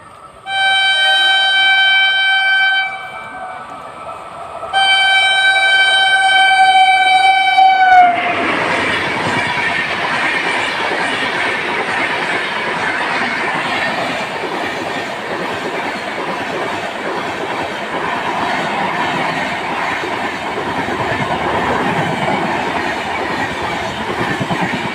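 Suheldev Express at Kerakat railway station in India, a loud train horn sounding in two steady tonal blasts before the train rolls through with a continuous rumble and clatter of wheels on rails.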